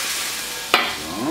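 Orange juice hisses and sizzles loudly as it is poured into a hot pan for flambéed bananas, a steady frying crackle with a brief sharp clink partway through.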